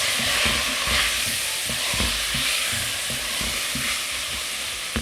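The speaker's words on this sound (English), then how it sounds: "So now I'll mix it." Meat being stirred together with a garlic sauce in a hot pan, a steady close sizzle with repeated scraping and stirring strokes throughout, no voices.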